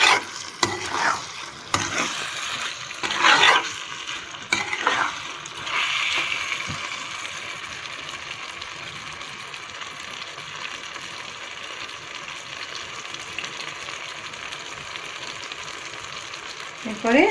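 A spoon stirs fried puffed-rice snack in hot ghee in a pan, giving a steady sizzle and a few scraping strokes. The stirring is loudest in the first seconds and the frying hiss carries on underneath.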